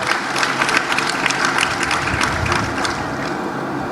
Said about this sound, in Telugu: have a huge round of claps for them